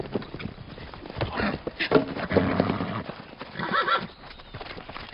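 A horse canters through a turn during jump training, rhythmic hoofbeats with a loud neigh midway and another whinny near the end, close up with faint background noise.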